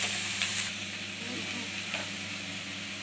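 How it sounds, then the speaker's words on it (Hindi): Banana and potato pakoras frying in hot oil over a low flame, giving a steady, close sizzle with broadband crackle that stays fairly even throughout, a few louder pops near the start, no voices. "इधर तेल गरम हो चुका है पकौड़े तलने के लिए"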